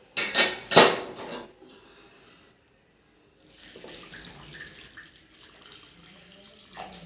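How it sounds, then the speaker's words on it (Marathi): Hot water is poured into a kadhai holding leftover flour batter while a rustic patvadi rassa curry is cooked, with two short splashing gushes at the start, then quiet, then faint kitchen clatter. "त्यात आपलं गरम पाणी ओतून घ्यायचं भाजीसाठी"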